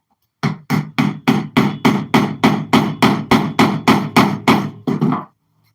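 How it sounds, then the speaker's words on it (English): A wooden mallet strikes an aluminum rod drift, about fourteen sharp, evenly spaced blows in a steady rhythm, loud and close, with no talk. "I'm going to hit it with a wood mallet."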